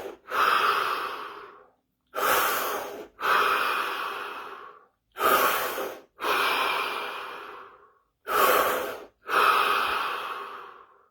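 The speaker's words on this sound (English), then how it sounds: "5 deep breaths. Here we go." Slow deep breaths alternate in and out, each a long, loud, close airy rush separated by brief silences, several full cycles in steady rhythm.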